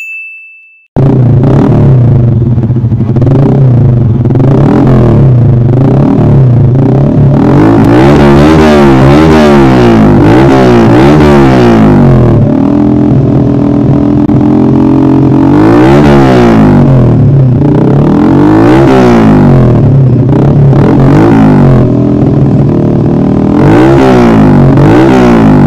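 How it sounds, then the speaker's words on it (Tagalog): Open exhaust of a Yamaha Vega Force FI motorcycle fitted with an SC Project pipe, both silencers removed, revved hard again and again in loud, raspy bursts over a steady idle, close to the microphone with no talking. "Ito naman ang sound check mga repa ng nakatanggal ang dalawang silencer."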